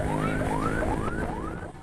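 Ambulance siren wailing on a street in Ciputat, Tangerang Selatan, with repeated rising sweeps about every 0.4 seconds, loud and close over traffic rumble and no talk.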